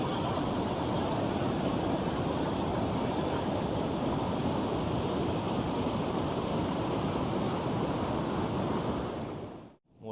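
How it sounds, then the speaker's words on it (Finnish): Rapids on a river rush and roar after heavy rain in October, a steady, dense broadband noise that stays loud and close for nearly the whole clip before cutting off abruptly at the end. "mikä kohina tuolta taustalta kuuluu, niin se johtuu siitä, että täällä tosiaan sato ihan kunnolla ja se on koskessa nyt vettä"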